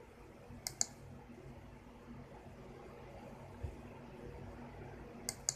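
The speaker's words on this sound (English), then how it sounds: "we're going to click here and delete the Windows folder" On a Windows 98 computer, a mouse gives a quick double click near the start and another at the end, each a crisp, faint tick set against a low, steady fan hum in an otherwise quiet room.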